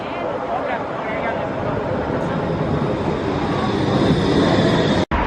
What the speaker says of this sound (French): Je suis en train de prendre le tramway